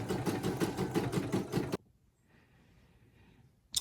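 A Brother SE1900 embroidery machine stitching an oven mitt, a steady close mechanical whir with rapid rhythmic needle pulses that stops abruptly partway, leaving faint quiet hum and a brief clunk at the end.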